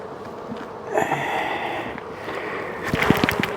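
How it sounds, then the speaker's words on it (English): Honeybees swarm and buzz around an opened beehive, a dense, steady close-up drone with a brief louder hum, ending in a few knocks and rustles as frames are handled. "We're gonna shake a bunch of bees to really populate this top, what was the top of the hive"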